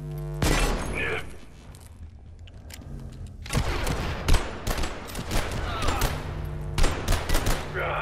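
Rapid bursts of gunfire in the survival game Abiotic Factor, loud and sharp with clustered shots and impacts, while players talk excitedly over the action.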